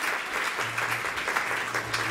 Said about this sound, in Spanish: Aplausos a las hermanas que trajeron.